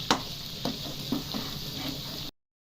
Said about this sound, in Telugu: ఇది కూడా మసాలా బాగా ఎర్రగా వేగాలండి